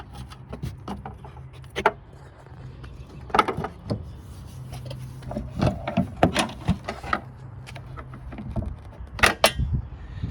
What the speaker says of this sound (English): there's just 4 8mm bolts holding this guy in. So I'll go ahead and take those out.